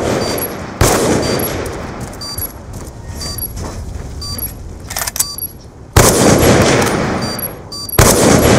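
Bursts of video game gunfire crackle loudly in dense rapid volleys, easing into a quieter stretch of scattered shots before the heavy firing surges back twice near the end.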